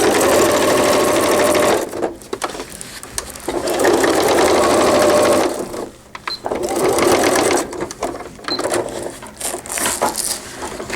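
A sewing machine stitches around a cloth diaper cover tab, running loud and steady in long bursts with brief pauses between passes and a short stop-start stretch near the end.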